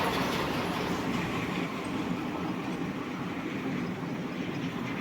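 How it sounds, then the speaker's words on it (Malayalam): The Sabari Express, train number 17230, rolls through Mayyanad village railway station in India with a steady rumbling clatter of wheels on rails, loud and continuous for the whole stretch, with no voices. "ഇത് ട്രെയിൻ നമ്പർ 172-30 ശബരി കേട്ടോ"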